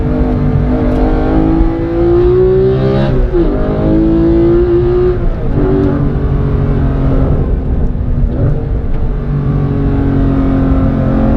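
A Porsche 991.2 GT3 with a manual gearbox revs loud and close from inside the cabin, its engine note rising and dropping sharply through several downshifts, continuous and without talk.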